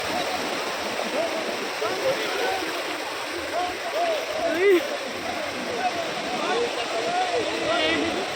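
Sea waves breaking on the beach at Digha, a continuous loud wash of surf with people talking over it.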